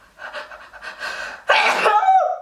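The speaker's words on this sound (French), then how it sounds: "je sens que je vais éternuer" A person with a head cold breathes in a few quick gasping pants, then lets out one loud, close sneeze that trails off into a short voiced exhale.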